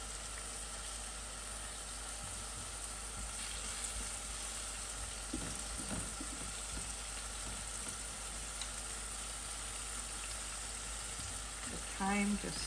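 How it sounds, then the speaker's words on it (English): Filet mignon sears in a hot pan with a steady, fairly quiet sizzle running throughout, with faint clinks and a brief louder clatter near the end. "You have to get a good sear."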